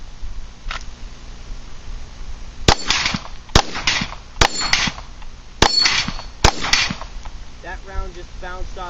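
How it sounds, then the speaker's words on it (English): Glock 19 Gen 4 pistol firing a magazine, sharp loud gunshots at irregular intervals, about six shots over several seconds, with faint background noise and brief trailing sounds after the last shot. "So we'll shoot through one more mag here."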